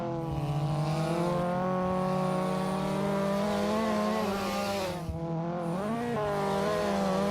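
Mazda RX-7 race car engine in the Assetto Corsa sim racing game on a touge mountain road, a loud, sustained rotary drone rising and falling in pitch through gear changes, with a brief dip and a faint tire squeal.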